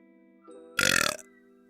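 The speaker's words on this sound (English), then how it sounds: "then we get on stream and I burp" One loud, close, rattling burp lasting under half a second, set against a faint steady background hum.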